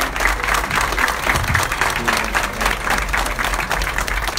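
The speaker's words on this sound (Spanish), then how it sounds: "Fuerte los aplausos para él" An audience at a health caravan event in Huixtla, Chiapas, applauds loudly and continuously for a health secretary, a dense, even wash of clapping throughout.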